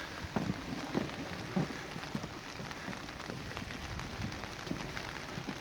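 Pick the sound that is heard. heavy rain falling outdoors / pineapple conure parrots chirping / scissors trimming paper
heavy rain falling outdoors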